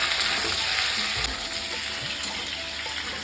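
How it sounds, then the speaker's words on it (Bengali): Vegetables for shukto fry in a pan with a steady, close sizzle and a few soft stirring scrapes throughout. "ভালো করে সবজিটা ভেজে নেব।"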